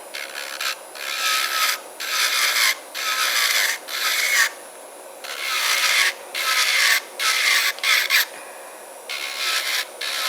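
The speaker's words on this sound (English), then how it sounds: "if your drill bit sounds like that and you feel that it's skipping a little bit" A small electric nail drill with a tungsten carbide bit grinds in short bursts with brief pauses between, a rough, raspy buzz that catches and chatters as the bit skips.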